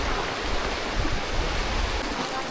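Water rushing continuously along a park stream, a dense, steady hiss and gurgle of flowing water close by, alone with no talk.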